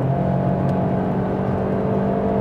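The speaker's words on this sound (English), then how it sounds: "is there still something happening from that engine here at 110 kilometers now?" Steady, droning engine and road hum from inside a 2022 Opel Astra Sports Tourer estate with a turbo engine, cruising at about 110 km/h on the highway. The sound is continuous and fairly loud, with no talking.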